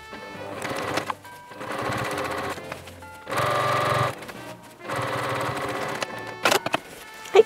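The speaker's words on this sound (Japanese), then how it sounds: "3センチのとこやから端っこ5ミリ開けてミシンかけていきます" A sewing machine stitches a sleeve seam in fabric for a remade boro-cloth garment, running close in several fast whirring bursts separated by short pauses, then ending with a few sharp clicks.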